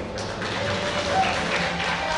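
A live crowd at an esports tournament claps and cheers in a continuous, fairly distant wash of applause, with a faint voice underneath.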